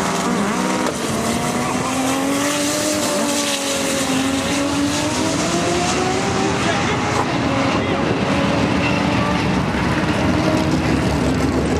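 A 1966 green VW Bug race car launches off the line, its engine note rising and falling in a steady loud drone with a droning harmonic sweep, while a voice talks over it throughout.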